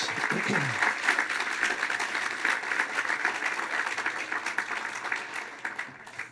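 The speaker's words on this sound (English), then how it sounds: "Let's give them all a round of applause." Audience applause at the Caltrain electrification groundbreaking ceremony, steady and dense throughout, with a few voices briefly audible early on.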